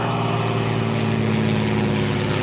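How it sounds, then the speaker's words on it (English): T-34 trainer aircraft with 225-horsepower Continental engines flying past at an air fair, a loud continuous propeller drone with steady humming engine tones and no voices. "Listen to the sound of the engines as they fly by."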